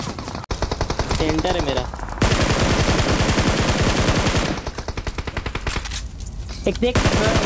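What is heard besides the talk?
gunfire in a battle royale video game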